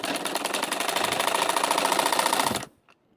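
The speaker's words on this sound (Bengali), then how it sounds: "ধীরে ধরবো আর সেলাই করব" A sewing machine stitches piping onto baby pants in a fast, even mechanical chatter. It runs loud and close for about two and a half seconds, then stops abruptly.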